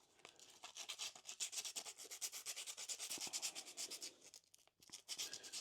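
Sandpaper, also called emery paper, rubs rapidly back and forth over copper pipe for a brass and copper shower mixer, giving a steady close scratchy rasping with short strokes and a brief pause near the end.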